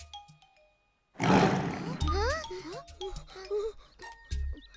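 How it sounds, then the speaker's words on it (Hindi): A tiger roars in an animated Little Krishna cartoon: one loud, rough burst after a short silence, followed by animated voices talking. "हाँ, लगता है किसी बाघ की आवाज है।"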